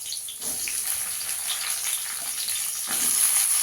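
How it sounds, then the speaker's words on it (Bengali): Eggplant sizzling in hot oil, a fairly quiet steady frying hiss that swells in two waves as the pieces settle into the pan, with no talking. "তেলটা গরম হয়ে গেছে, বেগুনটা দিয়ে দেবো।"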